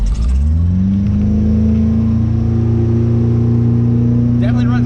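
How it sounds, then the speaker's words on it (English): A boat engine on a lake revs up to full throttle, a loud, close rising roar that settles into a sustained steady drone, with a brief voice near the end. "Definitely runs better full throttle than it did at idle."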